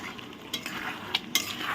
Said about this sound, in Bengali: মাংসটা এখন ভালো করে কষাবো